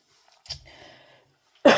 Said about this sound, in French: la toux est toujours bien présente